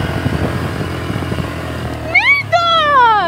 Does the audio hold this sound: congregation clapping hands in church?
no